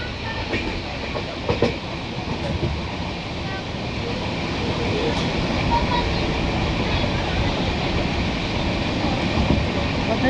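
A train pulling away and running on rails toward Mumbai from Jamnagar, a steady rumbling roar with faint clickety-clack that builds and holds close, with no speech over it.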